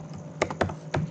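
Keystrokes on a computer keyboard while code is typed, three or four quick close taps in a short burst.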